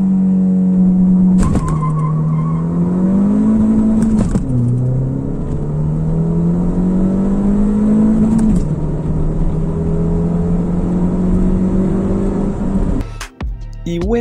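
Ford Fiesta ST with Stage 2 tuning accelerating hard from 0 to 100 km/h in Bogotá, its engine rising steadily in pitch through several gears with brief dips at each shift, loud and close throughout.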